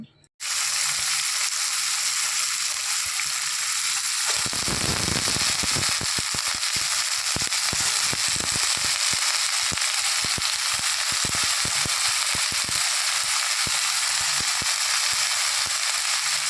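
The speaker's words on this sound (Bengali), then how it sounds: "কাঁচা লঙ্কা ফোড়ন দেবো দিয়ে আলু বটবটিটা ভেজে নিই" Potato bhaji fries in oil with a green chilli tempering, making a loud, continuous close-up sizzle with scattered crackling bursts that runs for the whole stretch, with no voices.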